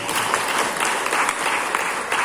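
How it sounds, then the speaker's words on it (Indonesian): A crowd at a halal bihalal gathering of business owners at a regent's official residence applauds for street vendors, steady dense clapping throughout, moderately loud and close, with no talk over it. "Tepuk tangan untuk PKL semua"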